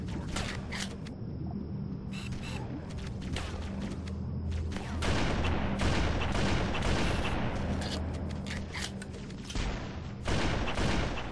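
Rifle fire in the Halo: Combat Evolved campaign, with rapid dense bursts of gunshots and booms that run almost continuously and loudly under steady background hum.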